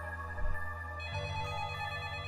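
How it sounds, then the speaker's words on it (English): A telephone rings at home with a steady electronic trill, clear and mid-loud with no voices over it, the tone sustained through the whole short stretch. "As soon as I got home, the phone rang."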